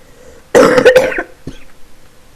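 A person coughs in one harsh, close burst of several rapid coughs, followed by a short throat-clearing sound, with quiet background before and after.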